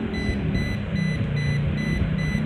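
A Sunfree voltage test pen sounds its buzzer in a fast, regular series of high electronic beeps, loud and close over a steady background hum, with no talk.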